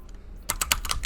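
Rapid, uneven clicking of computer keyboard keys, close and fairly loud, starting after a brief quiet moment and continuing as a burst of keystrokes with no talking.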